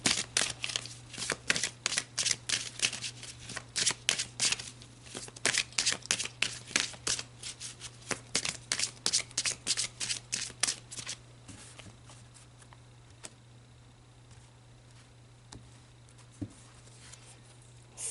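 A deck of oracle cards is shuffled in quick, crisp riffling bursts that crackle steadily for about ten seconds, then give way to near silence with only a faint soft tap or two.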